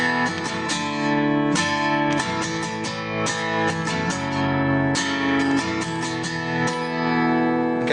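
Guitar strums the chord progression of a worship song, steady rhythmic downstrokes ringing loud and close with sustained chords between accents, no voice over it.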